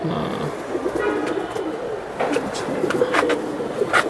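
Napta pigeons in a cage coo in short, soft bursts against a steady background hiss, with faint distant traffic and no speech.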